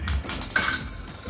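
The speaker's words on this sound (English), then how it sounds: "I'm still stirring it." Food stirred in a pot with a utensil, giving a few quick metallic clinks and scrapes against the side, close and brief.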